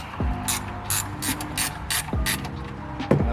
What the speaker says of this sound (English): Next we got the oil drain plug. That's going to be a 16mm wrench